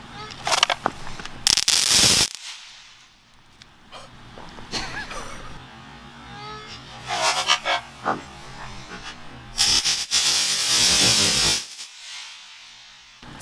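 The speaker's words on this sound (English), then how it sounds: "I filled these 2 solo cups with explosives, and I'm gonna go explode them." Fireworks explosives packed into two plastic solo cups going off outdoors on the Fourth of July, several sharp loud bursts separated by pauses, with faint crackle and distant pops between them.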